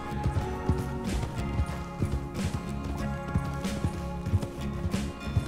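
A purebred horse being ridden, its hooves clip-clopping in a steady, fairly close rhythm of repeated strikes, with no voices.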